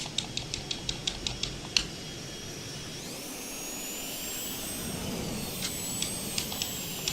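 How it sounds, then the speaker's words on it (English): A parking brake releases in a single-engine Mustang in the MSFS 2020 flight simulator, a steady engine and air hiss rising and holding after a series of sharp clicks. "Parking brake comes off."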